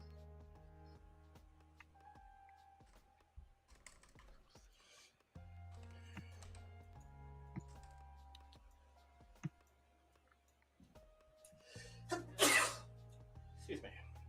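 A single sharp sneeze bursts out near the end amid quiet keyboard tapping and low background tones in a trading-stream setting, with people speaking briefly nearby.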